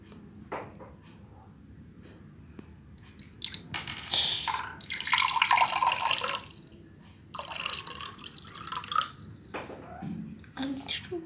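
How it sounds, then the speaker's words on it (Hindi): Water poured into a container holding a coin, a splashing pour in two bursts of several seconds each, preceded by small drips and light handling noises, with brief talk nearby. "और अब हम इसमें पानी डालेंगे।"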